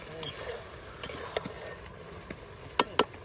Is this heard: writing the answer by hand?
no